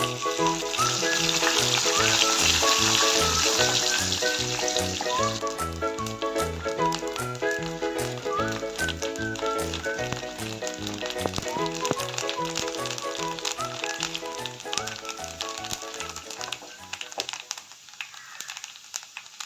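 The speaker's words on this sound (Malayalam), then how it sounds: "അരിയെല്ലാം നല്ലപോലെ മൊരിഞ്ഞു വന്നിട്ടുണ്ട്." Chambav rice fries with mustard seeds in hot oil for a Pathila thoran, sizzling strongly at first with a persistent rhythmic musical pattern over it, then thinning out near the end.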